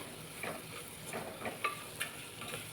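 Ground spice masala is stirred in a frying pan, giving a soft sizzle with a few light scrapes and taps of the spoon against the pan.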